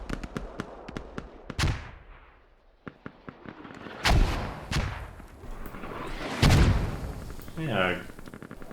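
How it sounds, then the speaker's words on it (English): Mortar fire in the video game Squad, with several sharp distant shots and a few deep, booming impacts spaced across the clip, and a voice briefly heard near the end. "good mortars by the way, but nothing hit"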